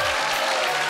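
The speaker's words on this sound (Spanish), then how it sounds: "Un aplauso para él." Clapping from a small crowd at a car-wash comedy show, dense and steady for under a second.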